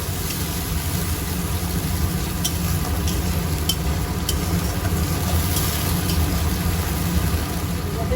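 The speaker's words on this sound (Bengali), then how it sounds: "বেটে রাখা মশলাটা দিয়ে দিলাম এটা আমি ভালো করে এর মধ্যে কষাতে পারি" Ground poppy seed, tomato and ginger paste sautéing in a pan for a pointed gourd dish gives a continuous sizzling hiss, with a low background hum and a few light metallic ticks from stirring.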